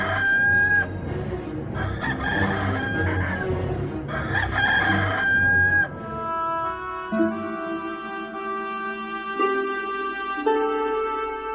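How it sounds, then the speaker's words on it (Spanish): A rooster crows several times in a row, loud and close, with clucking fowl and farmyard bird calls around it, then a run of sustained musical tones. "el gallo cantó."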